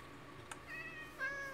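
Cat meowing in the Minecraft modpack All the Mods 6, near a swamp village: two short, soft meows, the second slightly louder, over quiet ambient game sound with a faint click between them.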